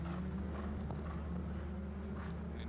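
Horse hooves clip-clopping on a show-jumping course at a modern pentathlon event, a quick rhythmic series of muffled thuds under a low steady hum, moderately distant.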